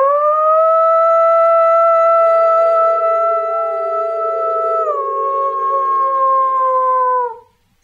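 A person imitates a wolf howl, holding one long, loud, steady cry that bends downward partway through and cuts off cleanly, with no other sound around it.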